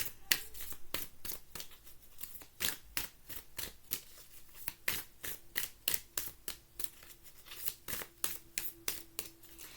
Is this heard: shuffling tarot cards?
yes